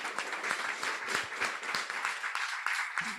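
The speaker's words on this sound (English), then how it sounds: "Let's give a huge round of applause to our graduates and all of the amazing dogs" A crowd claps warmly at a July 2024 on-campus graduation ceremony honoring graduates and their dogs, a busy mid-level patter of many hands for a few seconds with no speech.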